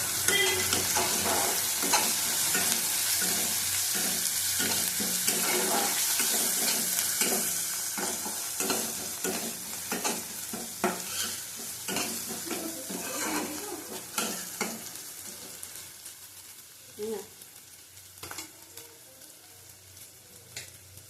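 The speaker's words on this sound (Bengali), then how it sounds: "দেবো কাশ্মীরি লঙ্কার গুঁড়ো 1/2 চামচ দিলাম। ভালো করে কষিয়ে নেবো।" Kashmiri chilli powder stir-fried in a hot oiled pan, with steady close sizzling and repeated scraping strokes of a spatula, loud at first and easing into fainter, more intermittent frying and stirring.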